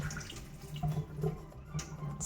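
Water runs from a kitchen tap as a water bottle is rinsed clean, giving a quiet steady splash with small gurgles and knocks in a domestic setting.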